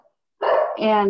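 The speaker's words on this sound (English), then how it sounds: "I am sorry about my dog." A dog on an online county meeting call gives one loud, close bark that cuts in abruptly after a brief word of speech.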